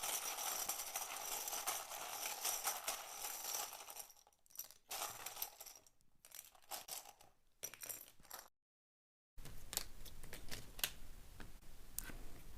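Tarot cards being shuffled, a dense close-up riffling and rustling of card stock in bursts with brief pauses, quiet and without talk.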